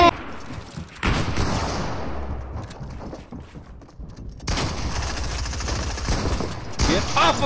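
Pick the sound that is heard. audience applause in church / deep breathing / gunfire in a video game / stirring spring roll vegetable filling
gunfire in a video game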